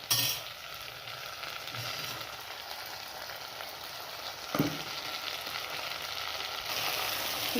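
Urad dal and grated coconut roast in a hot pan, crackling and sizzling steadily, with a single spoon clink partway through and the sizzle growing brighter toward the end.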